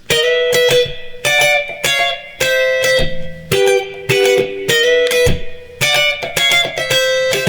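Electric guitar strums the chorus of a song with choppy, rhythmic chords and short pauses, bright and forward, playing alone.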